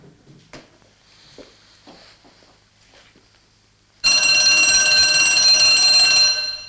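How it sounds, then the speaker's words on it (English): Security alarm for picture and display cases, triggered when a circuit breaks, starts abruptly partway through with a loud, continuous high-pitched ringing after quiet rustling and clicks. "Whenever a circuit is broken at either a picture or one of the cases, an alarm sounds"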